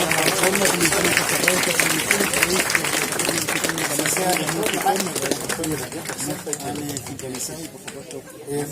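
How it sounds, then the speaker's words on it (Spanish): An audience at an outdoor history event in front of the Casa Cuéllar Linares breaks into dense, sustained applause that slowly tapers off, with voices mixed into the crowd noise. "Un aplauso."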